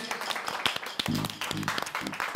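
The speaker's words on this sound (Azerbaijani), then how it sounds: "bəyimizə, gəlinimizə bir daha gürültülü alqışlar istəyirəm" Wedding guests clap for the bride and groom in a short burst of close, dense applause, with loud music and voices running underneath.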